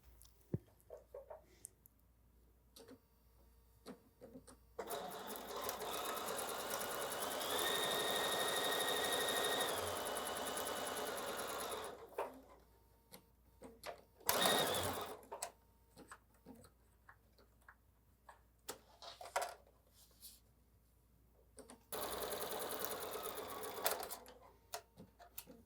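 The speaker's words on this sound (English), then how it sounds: "I'm going to go sew these together and I'll see you at the sewing machine" A sewing machine stitches quilt block fabric pieces together in a few bursts, a steady whirring chatter for several seconds, then pauses broken by clicks and handling noises.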